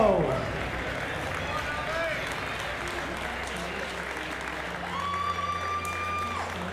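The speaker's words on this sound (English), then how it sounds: "keep the round of applause going as well for our Colombian boxer in the ring as well" Crowd applause and cheering for a Colombian boxer in the ring at a live boxing undercard event, steady under a loud arena backdrop with a voice over a PA.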